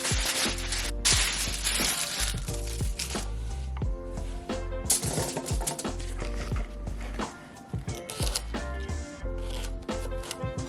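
Knife chopping vegetables on a cutting board while prepping a gluten-free sheet pan meal, a quick run of sharp, close taps repeating through the whole stretch under steady background music.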